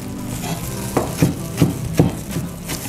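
Red chili being finely minced with a knife on a cutting board for a rolled omelette: a run of about five firm, fairly even chops near the mic, alone and moderately loud.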